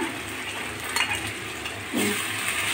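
Mashed cabbage goes into a pan of frying onion and garlic, giving a steady sizzle with a brief scraping clatter of the spoon as it is added.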